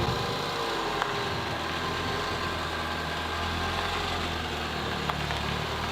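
A 2007 Ford Focus 1.6 Ti engine idling noisy and rattly after long abandonment, a steady close-up mechanical drone with a constant low rumble and faint ticking, no talk over it.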